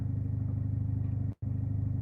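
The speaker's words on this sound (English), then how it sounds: "So the noise is the rattling exhaust." Steady low engine drone from a car being driven, with a faint rattle of the exhaust and engine mount running under it, interrupted by one brief dropout.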